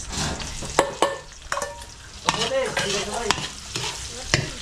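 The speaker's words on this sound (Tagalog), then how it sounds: "Kaya Beli, gigisa na natin yung anong tawag to? Chicken adobo." Garlic, onion and meat sauté in a pan for adobo, with a soft sizzle broken by repeated sharp scrapes and clatters of a utensil stirring against the pan, close and without speech.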